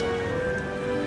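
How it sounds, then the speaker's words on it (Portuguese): Heavy rain pours in an animated Ever After High scene, a steady, loud, dense downpour that fills the whole clip, with faint tonal music underneath. "De repente, começou uma chuva muito forte."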